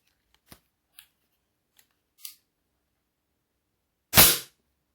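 A Diana LP8 Magnum air pistol fires a single sharp, loud shot over a chronograph, preceded by a few faint small clicks and a brief softer snap, all in an otherwise quiet setting.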